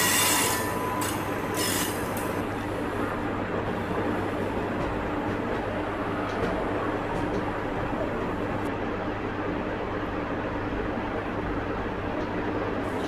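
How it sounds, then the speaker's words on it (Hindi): A passenger train rolls into Bhusawal Junction at night, a steady loud rumble of wheels on rails with high squealing from the wheels early on, heard from on board. "हमारी ट्रेन भुसावल जंक्शन बस पहुँचने वाली है"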